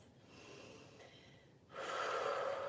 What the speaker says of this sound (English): Take your breaths.